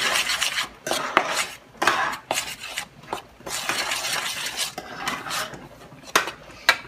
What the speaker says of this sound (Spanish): Vamos a menear muy bien.